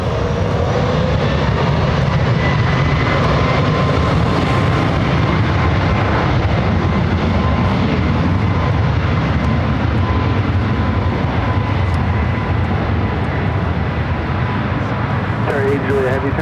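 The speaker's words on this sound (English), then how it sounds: "And Air Canada 737 MAX 8 now rolling down to 24 left." An Air Canada 737 MAX 8 rolls down runway 24 left on its takeoff run. A steady, loud roar of jet engines fills the air, and speech runs faintly beneath it.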